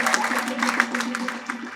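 A church congregation claps along in rhythmic, evenly spaced bursts, close and fairly loud, over a steady sustained musical tone.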